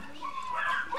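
Papillon puppies at a breeder's yip and bark in short, high, close bursts, with a little whimpering mixed in.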